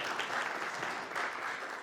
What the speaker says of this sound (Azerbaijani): Bir daha Fərid bəy zəhmət olmasa alqışlayaq.